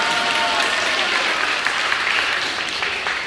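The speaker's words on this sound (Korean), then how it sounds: "박수" A church congregation at a Mass applauds for a few seconds, a dense, steady clatter of many hands clapping with no voices over it.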